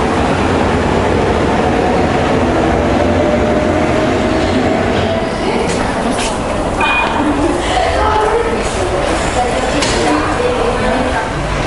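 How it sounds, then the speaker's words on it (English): Train noise at Kato Patissia station on Athens metro line 1, a steady loud rumble and rattle of rail cars filling the whole stretch with some screeching, while a voice talks over it. "So this is the Kato Patissia train station, the number 1 line."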